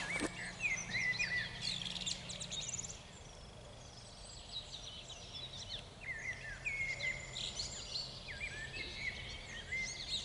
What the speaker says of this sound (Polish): Posłuchajmy jeszcze zaproszenia ptaszków, które pięknie śpiewają.